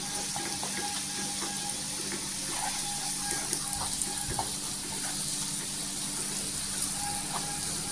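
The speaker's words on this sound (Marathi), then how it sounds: "इथे वाटण बनवलेलं आहे, हे आपण टाकायचं तेलामध्ये" Ground spice paste (vatan) frying in hot oil for a potato rassa curry, a steady, fairly loud sizzle and crackle running throughout, with faint clinks of a utensil and no voices.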